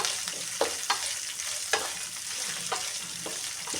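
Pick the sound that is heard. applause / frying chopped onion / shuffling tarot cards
frying chopped onion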